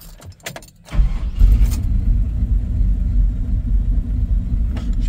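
A 1969 Chevrolet C10 shortbed with a built V8 cranks and fires after a second of starter noise, then settles into a deep, steady, close rumbling idle.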